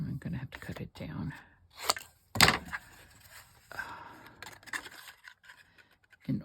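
Scissors cut paper ephemera from a Katie Daisy planner in a run of close, crisp snips and rustles, with one sharp louder cut, amid quiet handling noises.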